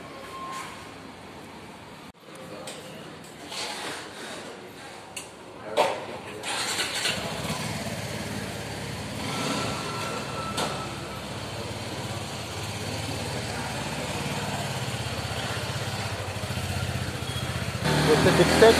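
A 2021 Suzuki Gixxer 250 naked motorcycle in a showroom is quiet at first, then its engine starts around the middle and settles into a steady, close idle that continues to the end.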